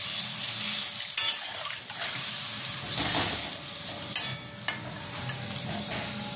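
Water poured into spiced prawn masala frying in a pan, a loud hissing steam burst with bubbling, stirring scrapes and a few sharp utensil knocks up close.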